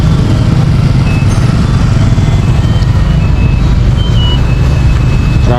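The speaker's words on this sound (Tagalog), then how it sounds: "Traffic na." Heavy road traffic in Iriga rumbles loudly and continuously nearby, a dense drone of engines with faint tonal beeps and a horn-like tone near the end.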